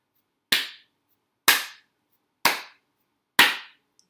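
Four sharp hand claps, evenly spaced about a second apart, crisp and close with short decays and silence between them.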